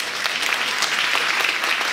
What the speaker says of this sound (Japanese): 会場にいらっしゃるすべてのミスとミセスの皆様にも、大きな拍手をお願いいたします。